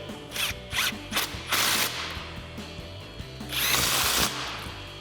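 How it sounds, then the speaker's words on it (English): A power tool drives a 13 mm socket to tighten front suspension mounting bolts on a RAM 2500 truck, firing in several short, close bursts with brief pauses between them. "So now we'll bring back our 13 mil socket and tighten these down."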